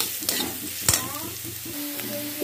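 Carrots and onions cooking in a pan, with a continuous hiss of frying broken by several sharp scrapes and clatters as the vegetables are stirred close by.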